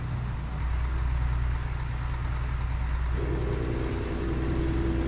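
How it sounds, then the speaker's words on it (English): A Freightliner Argosy truck in American Truck Simulator runs with a loud constant low engine drone, a hissing air brake near the start and a rising whine toward the end. "Maybe it was just triggering the brake, automatic braking."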